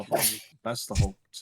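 A sneeze bursts out during a tabletop role-playing game session, one sharp explosive burst near the mic followed by talking voices.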